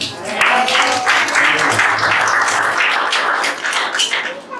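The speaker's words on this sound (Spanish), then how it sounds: "Den un aplauso al Señor" A church congregation breaks into warm applause, a full, steady patter of many hands clapping close by that swells quickly and holds for several seconds.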